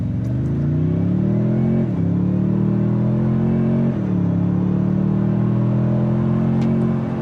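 A 2024 Toyota Tundra TRD Pro truck, in two-wheel drive with transmission and drive mode in Sport, accelerates at full throttle, its engine droning loudly and rising in pitch through two gear shifts, close and without talk.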